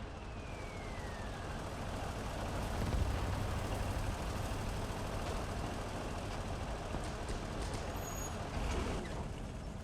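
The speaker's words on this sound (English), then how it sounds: "These are the 2 trucks I mentioned." Two German military trucks arriving in the late-war trench battle game Gates of Hell, a continuous engine drone and rumble with faint hissing and battle noise, steady and fairly close throughout.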